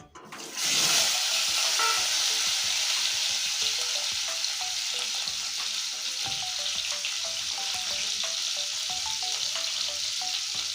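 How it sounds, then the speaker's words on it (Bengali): Potatoes frying in oil: a sudden loud sizzle bursts in as they drop into the pan, then settles into a steady, dense crackling hiss with occasional stirring clinks. "এখন আমি এই তেলে এই আলুগুলো আমি লাল করে ভেজে নেব"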